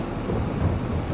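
Rain weather in the farming game Farming Simulator 22: a dense, hissing wash of rainfall with a deep rolling rumble like distant thunder beneath it, brief and steady.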